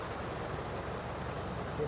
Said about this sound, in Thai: ฝนตกวันนี้คืมฟ้าคืมฝนแล้วก็ตก ค่อนข้างหนักนะครับ